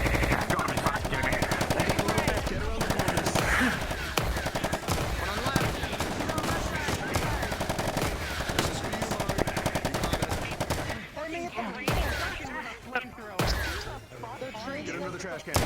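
Rapid bursts of automatic and single gunshots crack loudly and almost continuously in a VRChat gang roleplay game, with voices talking over the firing before it drops off near the end.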